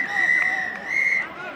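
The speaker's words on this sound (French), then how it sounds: "C'est la mi-temps d'ailleurs. Sifflé par Monsieur Kaplan" A referee's whistle blows for half-time in a rugby match between France and New Zealand, two loud sustained shrill blasts over crowd noise and commentary.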